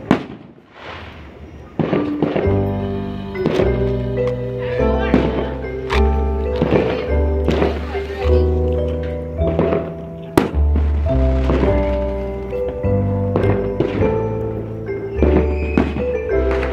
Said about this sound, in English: I'm just gonna show you some fireworks now.